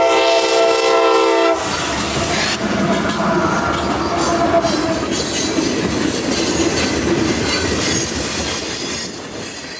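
A CSX freight train on the Valrico subdivision in Florida's Bone Valley sounds its horn loudly at a road crossing, then rumbles past close by with squealing wheels and rhythmic clickety-clack from the cars.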